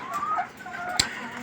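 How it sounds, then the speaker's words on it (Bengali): Native country hens recently come into lay, clucking softly at moderate distance, with a sharp brief click partway through and a faint background hum. "দেখেন মুরগিগুলো"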